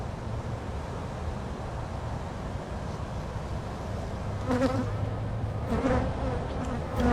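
Honey bees buzz steadily around an open hive during an inspection of brood frames, a dense close drone with individual bees flying past the microphone and brief louder swells midway and near the end.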